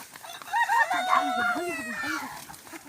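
Chickens cluck and call close by in a short burst of rising and falling squawks, with a drawn-out crow-like cry in the middle.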